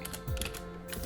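Keystrokes on a computer keyboard in a quiet room, a short run of soft close clicks with a low steady hum underneath.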